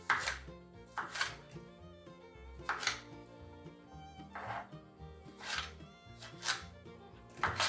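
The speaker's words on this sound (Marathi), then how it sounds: "या प्रकारे आपण सर्व शेंदड्या कापून घेऊ" A kitchen knife chops through shendadi gourds on a board in a series of crisp, close cuts at an irregular rhythm, heard alone without talk.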